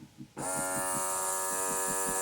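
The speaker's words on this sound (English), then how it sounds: "Look, it's sucking the air out." Vacuum sealer drawing air out of a food bag in a kitchen, switching on suddenly into a loud, steady electric motor buzz with a faint pulsing rhythm.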